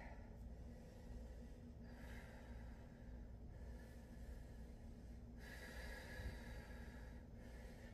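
Audible breaths during a yoga strength exercise, slow inhales and exhales with snorting, hissing air repeated every couple of seconds, faint and close with no speech.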